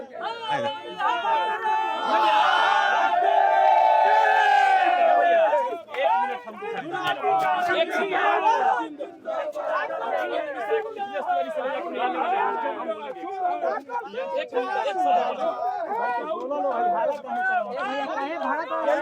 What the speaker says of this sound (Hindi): उग्र हो गई भीड़ बहुत ज़्यादा